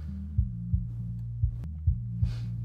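A soloed low-end kick drum in an Ozone 9 mastering session thumps alone at an uneven, moderate pace, with about six deep, soft hits over a low hum.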